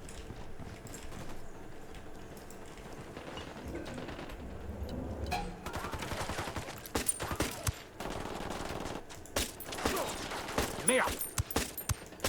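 Sustained automatic gunfire in the video game Ghost Recon Wildlands, dense crackling bursts growing busier and louder over the second half, with players' voices faintly mixed in.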